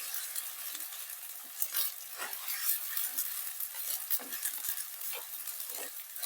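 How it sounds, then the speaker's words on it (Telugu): Ginger garlic paste fries in hot oil for an egg omelette curry, a constant close sizzle broken by light stirring scrapes and soft patter, with no talk. "అల్లం వెల్లుల్లి పేస్ట్ పచ్చివాసన పోయేంత వరకు ఇలాగా నూనెలోనే ఉడకబెడతాను"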